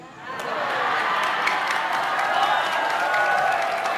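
A large audience at an Indonesian religious sermon bursts into loud applause and cheering, a dense sustained roar of clapping and voices.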